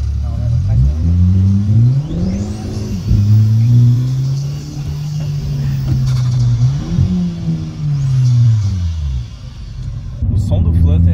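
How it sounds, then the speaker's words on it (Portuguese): A turbocharged Volkswagen Jetta with blow-off flutter revs and accelerates close by, its deep engine tone rising and falling in several sweeps, with voices murmuring underneath. "O som do flutter é sensacional."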